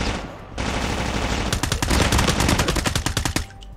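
M4 assault rifle fire in Call of Duty Mobile, loud close bursts of rapid automatic shots, several strings of rounds in quick succession, with no voices over them.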